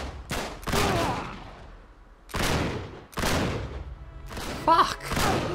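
Gunfire in the video game Uncharted 3, loud rapid bursts in several separate volleys with short gaps, close and punchy, with a brief higher ricochet-like crack near the end.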